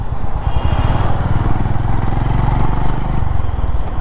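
A Honda CB 350 motorcycle engine runs steadily with a smooth, low, continuous throb at close range on an evening street in Kolkata, with no talk over it.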